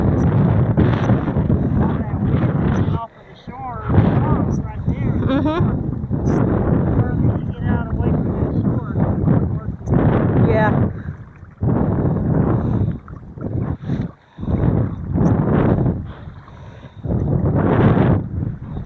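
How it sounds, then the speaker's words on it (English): Strong gale-force wind buffets the microphone while kayaking on open water, with steady roaring gusts throughout and people talking over it at close range. "All that wind off of the shore, right there."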